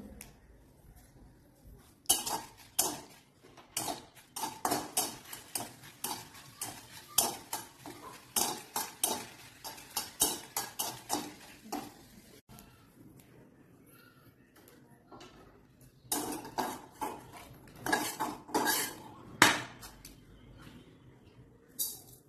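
Utensils clatter and scrape rapidly against a kadai wok as dried chillies are stirred, in loud rhythmic bursts with a brief lull midway.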